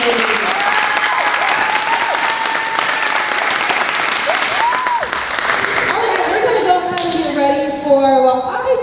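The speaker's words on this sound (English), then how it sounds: "let's give one more big round of applause for our amazing team" A large audience at a school show choir cabaret claps loudly and continuously, with cheering voices mixed into the dense applause before it thins out and a voice speaks near the end.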